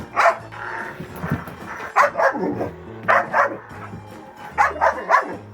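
An excited dog barks repeatedly in short clustered bursts and yips during indoor play, each bark loud and close, with brief pauses between volleys.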